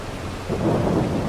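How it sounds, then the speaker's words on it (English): Rain and rolling thunder in a farming video game: a low thunder rumble swells under a steady hiss of rainfall, with no talking. "Rain, rain, go away."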